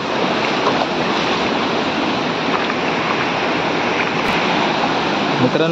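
A river in the Konkan forest rushes past in a continuous broadband roar, loud and close, with no break and no talk over it.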